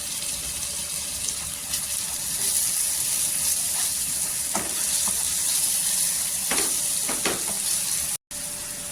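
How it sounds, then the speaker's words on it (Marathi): Onion and tomato sautéing in hot oil, a steady bright sizzle with a few stirring scrapes and clicks, close and continuous, no voices. "छान असं तेलावर परतून घ्यायचं"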